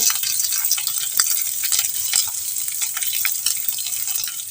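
Dry red chilli, urad dal and onion frying in hot oil in a pan, a steady close crackling sizzle with scattered pops and stirring scrapes throughout, no voices.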